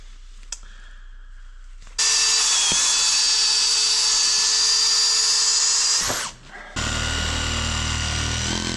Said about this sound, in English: I think I'm gonna burn through this drill instead.